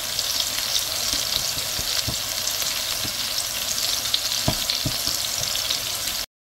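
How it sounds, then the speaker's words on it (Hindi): Kebabs frying in a shallow layer of oil, a close, continuous crackling sizzle with small pops and light clicks, no voices, cutting off abruptly at the end. "और बस यहाँ पर मैं इनको फ्राई कर रही हूँ और मैंने बहुत कम ऑयल डाला हुआ है"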